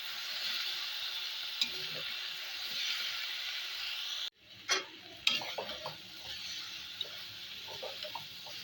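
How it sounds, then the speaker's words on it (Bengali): Mixed vegetables sizzle and fry in a pan for a Bengali vegetarian mix veg dish, a steady hiss broken midway by a sharp drop, then louder crackles and stirring clatters close by. "এই সবজিগুলো ভাজা ভাজা হতেই"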